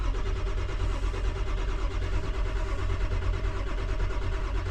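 A Ford 7.3 diesel engine with faulty glow plugs cranks steadily on a cold winter day without catching. The loud, continuous rhythmic churning of the starter goes on throughout, close by, with no voices.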